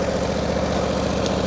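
1949 Harley-Davidson Panhead motorcycle engine running while coasting down a steep hill, a loud, steady low thumping drone close by with no talk.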